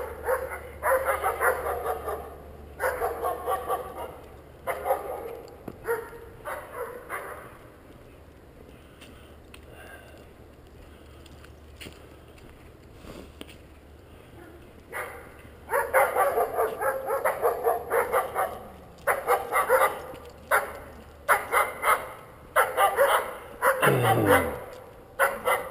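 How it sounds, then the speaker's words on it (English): Dogs barking at the Jersey shore among oak trees and fallen leaves: repeated loud bursts of barking in clusters, with a quieter stretch in the middle and a whimpering, falling whine near the end. "A couple of nasty dogs."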